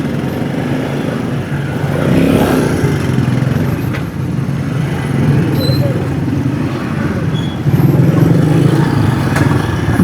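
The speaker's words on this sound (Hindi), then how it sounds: "मोटरसाइकिलें यहाँ से गुजर रही हैं।" Motorcycles and other traffic rumble steadily past on a road where paver blocks are being laid, with engine drone rising and falling over about ten seconds and someone talking over much of it.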